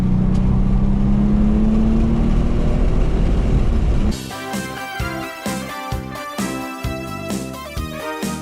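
A Porsche 911 Turbo on a race track holds a loud, steady engine note with rising pitch for about four seconds, then gives way to an abrupt shift into rhythmic, pulsing tones.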